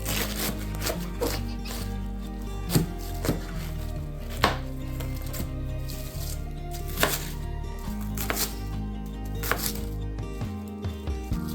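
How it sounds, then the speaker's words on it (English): A knife cuts small yellow potatoes in half on a board, firm chopping knocks landing at an irregular pace over a low steady kitchen hum, with no talk. "Probably going to cut them in half to put in the soup."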